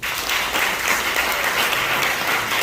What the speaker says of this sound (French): je veux qu'on t'applaudisse encore